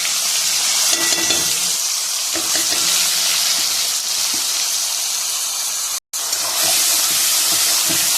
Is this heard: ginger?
yes